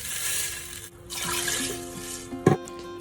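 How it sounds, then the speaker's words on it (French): Water pours steadily into a pot of lamb and tomato paste for couscous, a close, continuous splashing that briefly pauses and ends with a sharper clunk. "je vais rajouter de l'eau jusqu'à recouvrir à peu près la viande"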